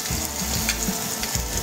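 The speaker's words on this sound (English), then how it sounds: "they're starting to saute up really nice. You see the bubble happening, you can hear it" Crab cakes sauté in a hot pan, oil bubbling around them as they brown. A brief, steady, close sizzle with soft popping bubbles and no voices.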